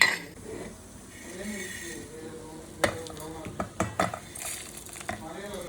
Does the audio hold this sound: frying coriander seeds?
yes